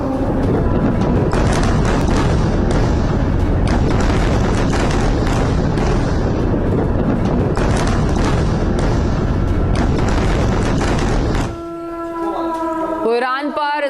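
Missile strike on an Iranian military airport: a dense, sustained roaring rumble of blasts and booms fills the scene for about eleven seconds, then cuts off abruptly, leaving a quieter stretch with a siren-like tonal whine.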